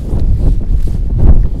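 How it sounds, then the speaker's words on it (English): Wind blows through the coastal village of Baixa on Pico Island in the Azores, a steady low buffeting rumble with no voices over it. "It's a little windy today, so hopefully the muffler is working."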